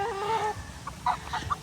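A sweater gamecock rooster clucks close by in a short burst of four or five sharp clucks, after a brief, faint bird-like note at the start.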